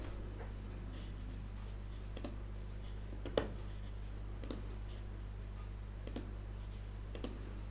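A computer mouse clicks through fields in Maximizer CRM 2018 software, a handful of sharp, sparse clicks spaced about a second apart over a steady low electrical hum.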